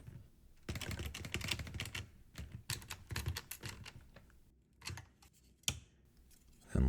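Five T20 Torx screws being driven back into an Alfa Romeo Giulia/Stelvio infotainment controller, with dense close-up clicking and rattling bursts from the driver and screws, broken by a few short pauses.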